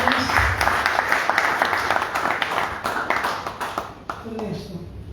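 An audience at a literary prize ceremony claps in a dense round of applause that gradually thins out over a few seconds, with some voices mixed in.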